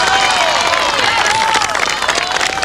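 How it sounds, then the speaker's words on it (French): A crowd applauds loudly and steadily, with dense continuous clapping and a few faint cheers and whistles mixed in. "je vous demanderai une grosse main d'applaudissement"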